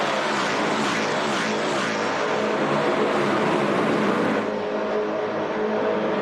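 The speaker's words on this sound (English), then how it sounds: "These Coyote engines just unleashed at nearly 280 kilometres an hour on the run to turn number 1." Loud, sustained roar of S5000 racing car engines (Ford Coyote V8s) at full throttle near 280 km/h, several cars screaming past together without pause, at Tailem Bend Motorsport Park.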